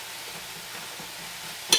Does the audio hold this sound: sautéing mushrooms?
yes